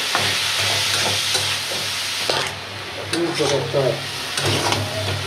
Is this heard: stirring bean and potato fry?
yes